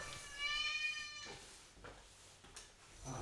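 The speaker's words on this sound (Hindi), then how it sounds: "मेरा बिल्ली को बाहर जाना था।" A house cat meowing to be let outside: a single drawn-out, fairly loud mew near the start, followed by faint shuffling and quiet household noise.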